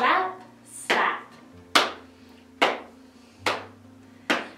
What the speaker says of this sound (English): Clap, slap, clap, slap.